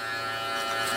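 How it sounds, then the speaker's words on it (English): Electric hair clipper buzzes steadily and close during a taper fade, a continuous bright hum with no break over about a second and no talking. "But as soon as I hear that clipper cut, I'm not going no higher"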